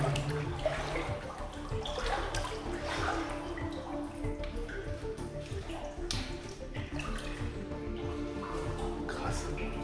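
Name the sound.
water splashing against tunnel walls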